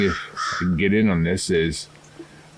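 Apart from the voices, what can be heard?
crows cawing in the background at a lake at dawn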